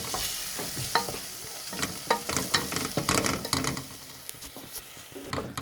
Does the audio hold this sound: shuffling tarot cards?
no